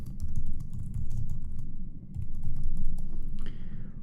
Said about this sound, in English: I'll just quickly type these other two